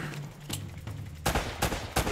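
Rapid gunfire from the action game Uncharted: Drake's Fortune, with a few sharp shots followed by a loud close cluster of bursts fired in quick succession.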